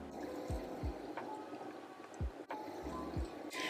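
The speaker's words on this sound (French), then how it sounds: "Maintenant, je vais rincer ma face avec le Kiehl's Ultra Facial Cleanser" Water splashes and drips while a face is rinsed with Kiehl's Ultra Facial Cleanser, a handful of short wet splashes scattered over a low background hiss, fairly close with no talk.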